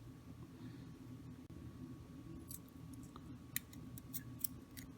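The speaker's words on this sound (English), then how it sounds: "I'm going to cut off this thread." Scissors snip through thread while making tatted earrings: a few sharp, quiet clicks close by in the second half over a low steady hum, with no talking.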